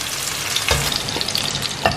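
Potatoes frying in hot oil for potato capsicum curry: a steady, bright sizzle with occasional clatters as the pieces are stirred or lifted out.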